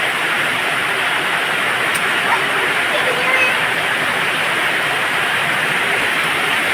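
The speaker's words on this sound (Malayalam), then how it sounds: "നല്ല സൂപ്പർ മഴ കേട്ടോ" Heavy evening rain pours down steadily, producing a dense, even hiss of drops that holds at the same level from start to finish with no break.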